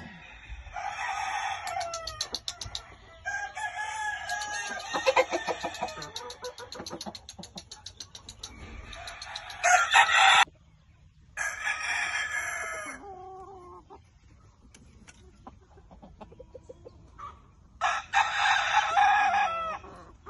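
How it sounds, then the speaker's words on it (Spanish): A hen-feathered rooster crows several times in long, loud, ragged calls, with clucking and other fowl sounds in between, close to the listener and with no talking. "Ese es un gallo gallino macho."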